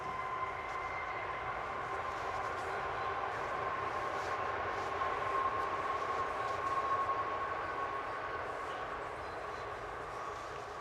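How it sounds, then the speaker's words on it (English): A train passes in the distance as a steady, sustained rumble with a faint high whine that swells slightly in the middle and holds for about ten seconds, with no one talking. "If you excuse the train going by"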